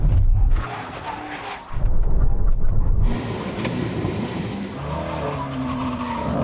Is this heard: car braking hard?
yes